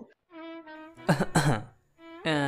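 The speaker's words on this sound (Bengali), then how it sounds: "বিভোর হালকা কাশি দিয়ে বলল" A light cough, two short throaty bursts from a man, set between spoken lines of a dramatized story, close and clear.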